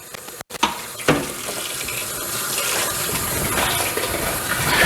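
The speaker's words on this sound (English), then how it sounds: "I'm just going to rinse off all this chicken and I'm going to fill it back up with cold water" A faucet gushes steadily into a sink, water splashing over raw chicken being rinsed, close and constant after a brief clunk at the start.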